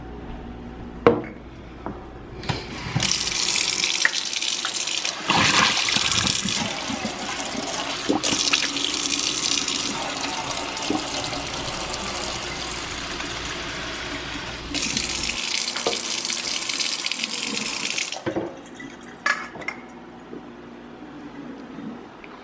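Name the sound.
tap running to fill puppy's water bowl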